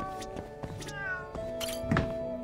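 Cat meowing in the video game Yakuza Judgment, several short meows and a thunk over soft in-game background tones, fairly quiet.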